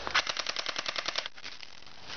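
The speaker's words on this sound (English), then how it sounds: "And my fucking UZI shooting." Airsoft UZI submachine gun firing a rapid full-auto burst of about a dozen sharp snapping shots for roughly a second, followed by a fading hiss.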